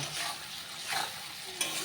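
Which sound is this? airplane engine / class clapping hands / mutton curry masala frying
mutton curry masala frying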